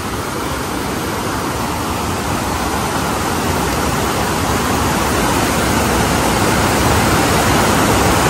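Rushing water pours at the Harkul dam waterfall, a loud, unbroken, broadband roar that holds steady throughout.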